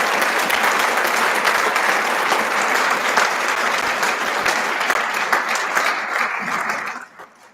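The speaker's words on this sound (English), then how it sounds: "Another round of applause for them" A crowd at the NTPS graduation ceremony applauds the graduates with dense, sustained clapping that stays loud for several seconds and then tapers off quickly near the end.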